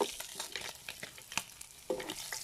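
Jackfruit fries in a pan, crackling and sizzling close up with irregular sharp pops and stirring scrapes.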